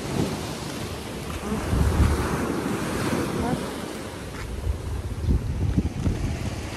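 Rough sea waves crash and wash onto the shore in a steady roar, with heavy wind buffeting the microphone throughout and no clear talking.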